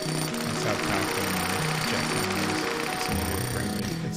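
A jackhammer chipping rock in the video game Occupy Mars, rapid rhythmic pounding bursts that repeat in short runs, moderately loud, with brief pauses between.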